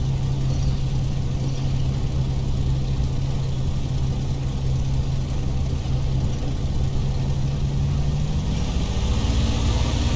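A vintage propeller airplane's engine holds a loud, steady drone through the takeoff roll, with a deep continuous hum that rises slightly in pitch near the end as power builds.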